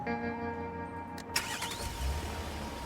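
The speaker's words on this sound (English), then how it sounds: "Okay, so now we can start the truck" A truck engine in a video game cranks and turns over after a steady background hum, then settles into a low idle rumble.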